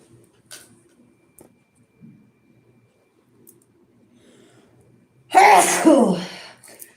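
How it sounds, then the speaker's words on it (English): A single loud sneeze bursts out near the end, after several seconds of near silence with a few faint clicks and rustles. "I gotta sneeze."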